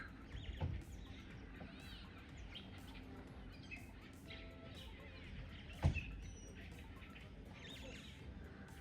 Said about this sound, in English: And the birds are here.